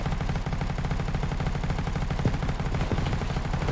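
An MG5 machine gun fires in the shooter game World War 3, a dense, sustained burst of rapid automatic shots that runs loud and unbroken for the whole stretch, with no voices.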